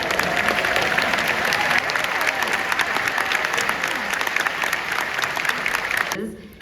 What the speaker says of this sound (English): please give a round of applause to James Duke Mason, the grandson of James Mason